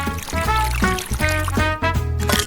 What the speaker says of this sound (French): Maintenant, je vais verser le lait.